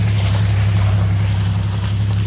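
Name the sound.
noise of passing cars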